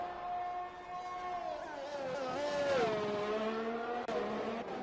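Mercedes Formula 1 car in the F1 2021 racing game at Abu Dhabi, a loud, steady high-pitched engine whine that rises and then falls in pitch as the car sweeps past, with tyre noise and no talking.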